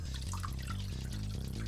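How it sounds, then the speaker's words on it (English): Water pours steadily into a nano reef aquarium, a continuous trickling splash running alone and close for the whole moment. "I'm going right in with the water."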